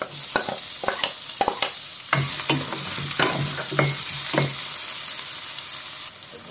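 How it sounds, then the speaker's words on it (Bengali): Chopped garlic sizzling in hot oil in a pan, with a steady loud fry hiss and repeated stirring scrapes and clinks through the first half, then continuous sizzle. "গরম হলে গরম করে নিচ্ছি, একটু দিয়ে দেবো রসুন কুচি।"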